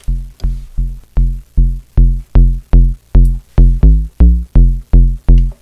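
A UK garage bass patch on the Vital synth, with a little distortion added, pulses alone in a steady run of about fourteen clipped, gritty low notes, loud and up front.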